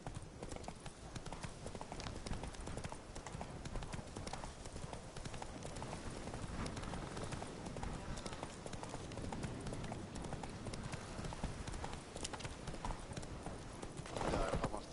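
A horse gallops along a road in The Witcher III, its hooves beating a steady, close clip-clop rhythm throughout, with faint game ambience and brief low speech underneath.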